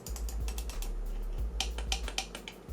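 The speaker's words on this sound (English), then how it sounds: "The middle mouse button is a little loud." Logitech MK270 wireless mouse buttons clicked repeatedly: a steady run of sharp, close plastic clicks with a faint low hum underneath and no talking.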